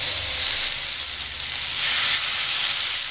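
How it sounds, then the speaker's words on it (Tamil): Paneer tikka skewers frying in oil in a pan give a loud, continuous close-up sizzle and hiss that swells and eases slightly, with no voices over it. "இப்போ இதை ஃப்ரை பண்ணிடலாம்."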